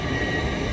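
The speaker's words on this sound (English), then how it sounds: "The Edinburgh service leaving on the middle tracks to go up the East Coast Main Line north" An LNER Edinburgh service departs Doncaster station on the middle tracks heading north on the East Coast Main Line, a steady, fairly loud rumble of rolling train wheels and engine noise.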